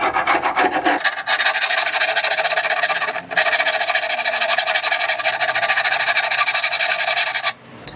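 A metal file rasps along guitar binding next to the fretboard during a refret, in steady close strokes with a brief pause near the start and another partway through.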